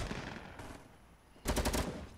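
A short burst of rapid gunfire in the video game Fortnite, fairly faint at first and then a louder cluster of quick shots in the second half.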